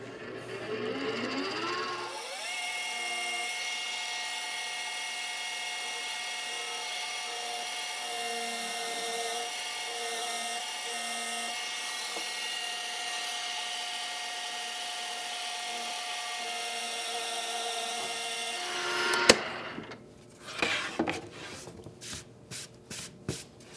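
A drill bores countersinks into the base of a low-cost DIY router table with a sustained high whine held steadily for about twenty seconds, then winds down into a few rattling, scraping bursts.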